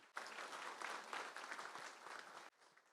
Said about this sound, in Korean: 우리 모두 참석해 주신 모두를 위해서 박수 부탁드리겠습니다.